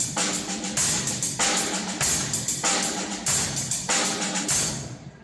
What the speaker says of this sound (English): So on every first and third quarter note of each 4x4 bar, I'll add the bass drum.